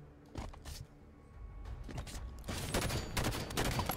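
Halo 5: Guardians gunfire in a multiplayer match, a few scattered shots early on, then a rapid, denser burst of automatic fire building to the end, moderately quiet with no voices.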